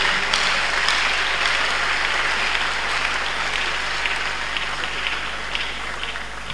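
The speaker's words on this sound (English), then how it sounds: "Let's clap unto God and appreciate Him." A congregation at a Tuesday miracle service in church claps together in a steady, continuous wave that fades slightly toward the end, with a low electrical hum underneath.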